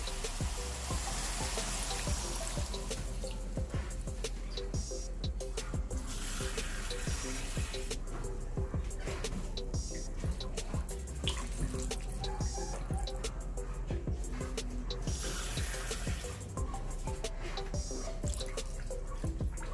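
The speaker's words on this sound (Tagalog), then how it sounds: "ang gagawin ko, halagyan natin ng tubig, 3 cup of water" Water from a tap runs and drips into a cooking pot for pork spare rib caldereta, a steady splashing, trickling pour close by that continues for the full length with no talk.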